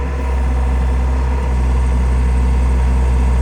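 A skid loader's engine idles and runs steadily nearby while lifting a 1996 Buick Century's 3100 engine, a loud, continuous low diesel drone with no talk.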